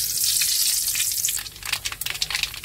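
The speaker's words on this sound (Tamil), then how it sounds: "எண்ணெய் காஞ்சிட்டு கொஞ்சம் கடுகு சேர்த்துக்கலாம்" Mustard seeds go into hot oil: a smooth, loud sizzle drops in level and then breaks into crackling, irregular pops and spits, close by.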